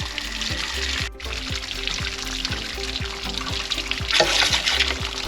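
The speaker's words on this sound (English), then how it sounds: "Let all the water drain out." Water pours and trickles steadily out of a drained water heater on a Grand Design Momentum 25G camper, a continuous close gushing stream over a low rhythmic mechanical hum, swelling louder toward the end.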